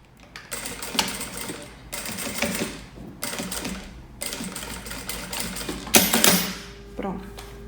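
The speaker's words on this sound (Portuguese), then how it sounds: "vou passar uma costurinha" A sewing machine stitches satin lining bonded to synthetic non-woven fabric for an ecobag, running in several bursts of a couple of seconds each with brief stops, close and fairly loud, with speech heard faintly at moments.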